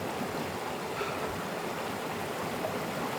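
A river runs steadily with a broad, continuous wash of flowing water, even and unbroken throughout, with no voices over it.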